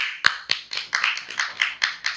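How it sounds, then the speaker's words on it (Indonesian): About eight sharp claps spaced at a steady, unhurried rhythm, each a crisp broadband snap, close and fairly loud with no voices over them. "Mana tepuk tangannya?"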